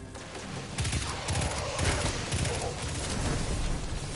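Video game gunfire rattles in a dense, loud burst of rapid shots that runs almost continuously for a few seconds.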